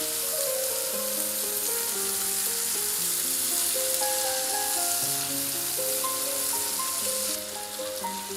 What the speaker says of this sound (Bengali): এখন পেঁয়াজ কুচি ভেজে নিব।